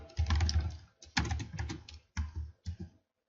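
Typing on a computer keyboard while entering Python code, including a press of the Tab key: several bursts of quick, close clicking keystrokes separated by short pauses, with no talking.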